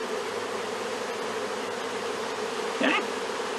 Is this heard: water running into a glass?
no